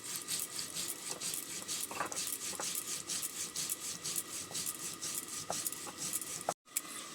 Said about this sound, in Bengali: এদিকে আমি শিলের ওপরে নিয়ে নিচ্ছি জিরে আর সর্ষে। জিরে আর সর্ষেটা বেটে নেব।